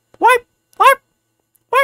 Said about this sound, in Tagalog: Nakatahol ah. Parang may aso dito ah.